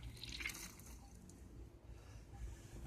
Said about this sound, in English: Now when I let the water through by this lever, let the water through onto that carbide